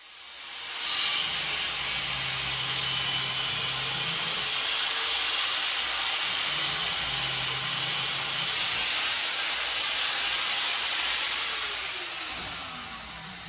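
A cutoff wheel grinds steadily on a metal part for a V8 350 go-kart chain drive, a loud continuous high-pitched whine and hiss that starts after a second, holds for about ten seconds, then winds down.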